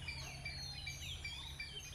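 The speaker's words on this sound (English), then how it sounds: "It's fun listening to the nature here, isn't it? All the birds." Birds chirp and sing outdoors, several overlapping calls at moderate distance over a low steady background hum.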